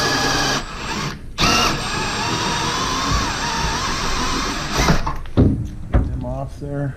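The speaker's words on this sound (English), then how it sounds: "And then drill those heads right off." Short bursts of a close power drill whir and stop as it drills off screw heads on a Yamaha Sidewinder snowmobile's lower panel, with brief pauses between, followed by someone talking and a few clunks.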